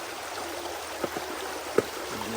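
Water running through a gold sluice at a Wisconsin nugget lake, a steady low trickle and stream with a couple of brief splashes, faint and alone without talk.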